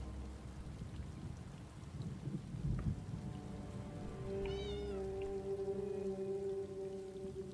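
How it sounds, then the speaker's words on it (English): A cat in The Elder Scrolls Online meows briefly amid a steady wash of rain with low rolling thunder, the meow short and fairly faint against the storm ambience. "There's another cat."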